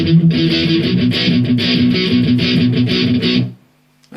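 Distorted electric guitar chugging a palm-muted verse riff, with dense rhythmic strokes, loud and close, cutting off abruptly before a brief low noise at the end.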